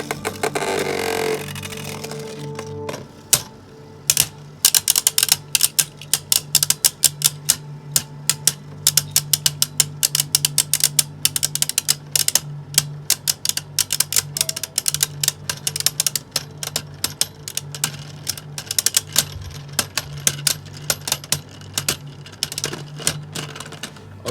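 Two spinning Beyblade Burst Turbo tops, Air Knight and the left-spinning stamina type Fafnir, battle in a plastic stadium, giving a steady whir with dense, irregular sharp clacks as they collide, loud and close.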